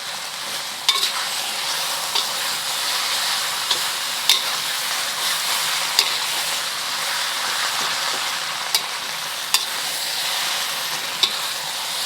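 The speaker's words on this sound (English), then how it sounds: "Just going to cook this until the chives wilt a little bit more." Char kway teow noodles with chives sizzle steadily in a hot wok, a loud continuous frying hiss close by, punctuated by occasional sharp clinks of a spatula stirring.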